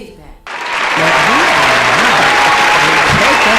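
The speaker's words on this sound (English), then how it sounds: "Oh, applause." Studio applause from a small audience swells in after a short quiet start and holds steady and loud, with a voice talking over it.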